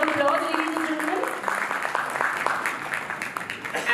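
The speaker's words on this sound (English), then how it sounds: "A huge round of applause, ladies and gentlemen." Audience applause fills an award ceremony, a dense crackling clatter of many hands running steadily for the whole stretch, with a voice or tone sounding over the opening moments.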